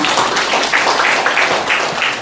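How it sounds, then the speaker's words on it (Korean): Dense, steady applause from a seated audience at an association event for caregiver training institutions, many hands clapping together at close range and fairly loud throughout, with no speech. "큰 박수 부탁드립니다."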